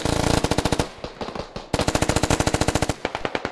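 Machine gun fire in the video game Squad comes in two rapid, loud bursts of evenly spaced shots with a brief pause between them, and no voices.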